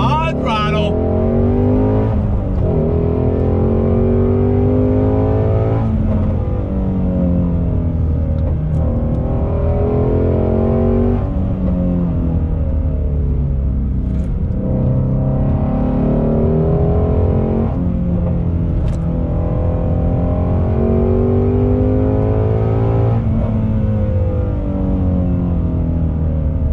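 A 2020 Ford Shelby GT350R Heritage Edition Mustang engine pulls hard on throttle, and its loud revs climb through repeated gear changes. The engine runs continuously throughout while someone talks over it.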